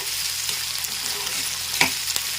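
Spices for tempering karonda (vakkaya) pickle sizzle in hot oil in a steady hiss with a few sharp crackles and pops, close up and unbroken, with no voices.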